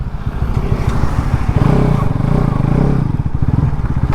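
A Bajaj Pulsar RS200 motorcycle riding and swinging through a U-turn, its engine droning loud and close with rhythmic pulsing and a rise and fall in revs as it turns.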